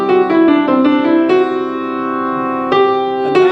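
Solo piano playing a sustained passage in the Lydian mode, several struck chords ringing out clearly and close, alone without any talking.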